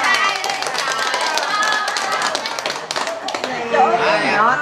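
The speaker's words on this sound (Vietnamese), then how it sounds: "Vỗ tay. Vỗ tay." Hands clapping at a Vietnamese wedding, a dense, steady patter of applause filling the room with voices and background music mixed in throughout.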